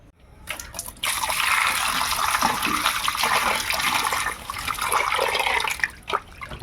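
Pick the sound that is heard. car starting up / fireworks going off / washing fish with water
washing fish with water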